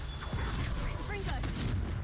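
The Confringo blast spell fires in Hogwarts Legacy, a muffled booming burst set against low game rumble and other effects.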